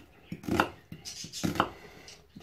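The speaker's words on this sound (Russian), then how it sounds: "Нарезаем как можно мельче это все." A knife chops garlic and hot pepper finely on a cutting board, about five close, crisp strikes in an uneven rhythm, nearly alone with no speech.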